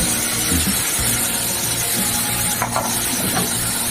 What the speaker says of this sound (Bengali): এবার এই পেস্টটা দিয়ে দেবো নাড়তে হবে